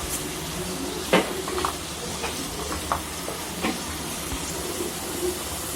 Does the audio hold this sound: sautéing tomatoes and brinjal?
yes